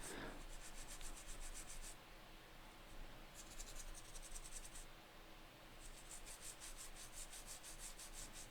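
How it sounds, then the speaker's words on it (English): A small brush scrubs around the components on a corroded Game Boy Advance game cartridge circuit board, making a faint, close, repetitive scratchy rubbing in bursts with brief pauses. "just scrubbing around these components"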